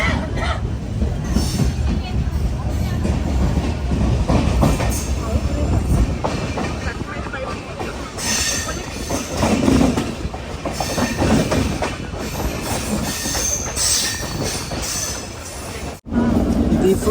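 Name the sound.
Donyi Polo Express train running, clickety-clack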